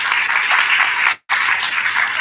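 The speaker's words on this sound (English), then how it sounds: "Ladies and gentlemen, another round of applause for our panelists." An audience at a knowledge forum applauds its panelists with loud, dense clapping, broken by a brief cut of silence midway before it resumes.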